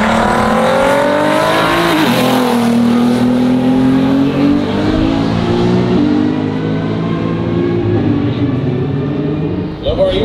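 A Nissan GTR race car launches and accelerates hard down a drag strip, its loud engine note climbing through several gear changes over about ten seconds before fading off into the distance.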